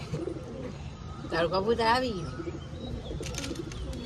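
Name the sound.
cooing of a caught high-flyer pigeon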